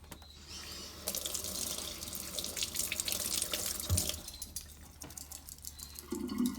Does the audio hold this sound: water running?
yes